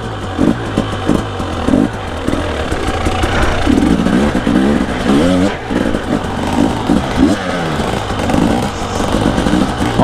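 A Husqvarna 300 enduro motorcycle engine rumbles and revs continuously on a trail ride, with repeated throttle blips rising and falling over a steady mid-pitched drone, close and fairly loud.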